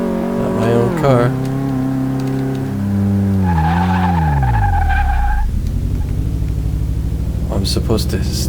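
A car in Car Mechanic Simulator 2018 brakes hard during a brake test, its engine tone sliding down as tires squeal in a long skid, followed by a low rumbling idle; loud and close.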